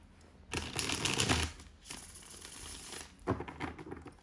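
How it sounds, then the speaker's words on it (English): Tarot cards shuffled in two riffling bursts, a brisk papery rustle near the microphone with a quieter stretch between them. "One more shuffle."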